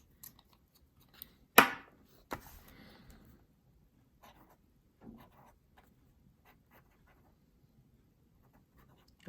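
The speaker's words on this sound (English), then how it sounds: "Let's do a writing sample with this medium bog nib" A Jacques Herbin Sloop fountain pen with a medium nib writes on paper, making quiet scratches and taps that come in sparse, irregular strokes with a couple of sharper marks amid near silence.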